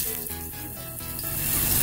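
A homemade potato chip sizzles in boiling oil, a steady close crackling hiss that swells slightly louder toward the end with no talking.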